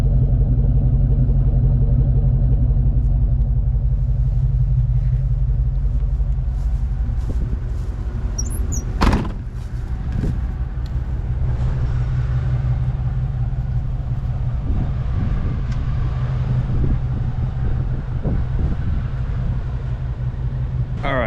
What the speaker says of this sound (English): The idle's real smooth.